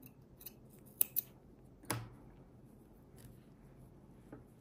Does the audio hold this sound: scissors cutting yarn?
yes